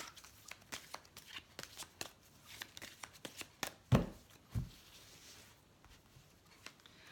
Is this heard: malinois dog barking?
no